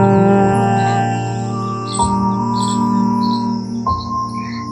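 A voice imitating a bee's humming buzz during Bhramari breathing practice: a sustained, steady nasal hum held on one pitch, broken by two brief breaths, loud and close.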